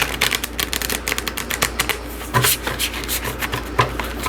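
Rapid riffling and flicking of cards being shuffled close up, a quick papery patter in bursts with short pauses between them.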